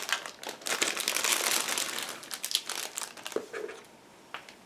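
Thin plastic bag holding hull parts from a Meng 1/35 M1A2 TUSK tank model kit, crinkling and rustling steadily up close, busier at first and then tapering into sparser crackles.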